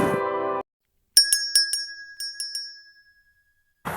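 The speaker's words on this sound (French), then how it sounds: "activer la cloche de notification" A notification bell chime rings out in a short run of bright metallic dings, clear and alone in silence, each one ringing out and decaying, with a voice briefly at the start and end.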